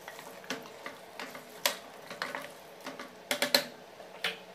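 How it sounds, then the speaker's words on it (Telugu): Masala is stirred and fried in oil for a village-style mutton curry, giving soft spoon scrapes and light clinks against the pan over a faint sizzle, close and quiet with no talking. "ఒక రెండు మూడు నిమిషాలు ఇలా నూనెలోనే మసాలాలని పట్టేలాగా వేయించుకోవాలి"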